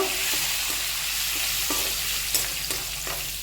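Loud, constant crackling sizzle of curry leaves dropped into hot tempering oil, with occasional stirring clicks, close up and without speech.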